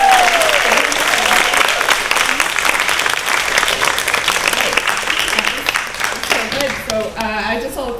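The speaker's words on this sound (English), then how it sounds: "can we give one more clap?" Audience applause at a keynote and panel event, sustained and dense clapping from a large crowd that fills the room for about eight seconds, with voices rising near the end as it tapers.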